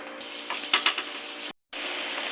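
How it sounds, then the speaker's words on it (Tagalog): Garlic pepper beef simmering in a pan with cream and seasonings: a close, steady bubbling sizzle with a few sharper spattering pops, briefly cut to silence before the hiss resumes. "Simmer lang natin ito ng mga 2 minutes"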